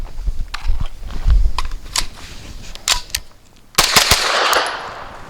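Grand Power Stribog SP9 A3 9mm pistol-caliber carbine fired with 115-grain Hornady Critical Defense ammunition, giving a series of sharp, spaced shots of uneven rhythm outdoors, followed by a louder burst and lingering noise.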